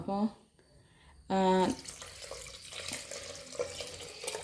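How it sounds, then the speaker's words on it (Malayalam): Short bursts of tonal voice-like sounds, then water splashing and trickling into a cooking pot for coconut rice, with clinks of a vessel in the background. "ഇനി ഇതാ വെള്ളം ഒഴിച്ച് കൊടുക്കാൻ പോവാണ് കേട്ടോ"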